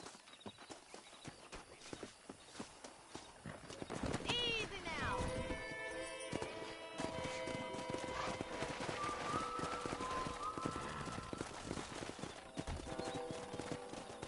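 Hooves of wild horses in the Red Dead Redemption video game clip-clop in a rapid steady patter, with a whinny and game music building underneath and someone speaking briefly.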